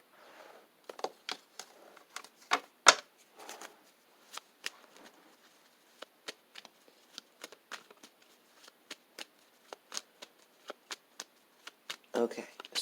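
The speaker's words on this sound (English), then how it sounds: "give me a second while I'm going to shuffle my cards" Tarot cards being shuffled close up: a long series of crisp snapping riffles and taps, irregular but steady, in a quiet room.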